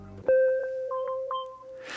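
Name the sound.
synth bell sample from RIP speakers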